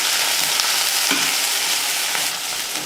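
Chopped onions sizzle steadily in hot oil in a pan while a rasam tempering is made, with a constant bright crackle and a few soft stirring scrapes, close and loud with no talking.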